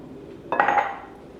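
A short clink of a utensil against a bowl as mini chocolate chips go into chocolate donut batter, one brief bright knock with a faint ringing tail in a quiet kitchen.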